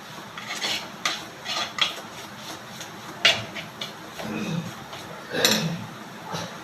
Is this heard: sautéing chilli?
yes